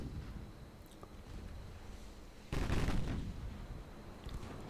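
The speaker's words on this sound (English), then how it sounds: "Yeah, those 7-inch guns are quite effective" Seven-inch naval guns firing in a naval warfare video game, one sudden heavy boom rolling into a rumbling tail over low steady background noise, with fainter distant thuds elsewhere.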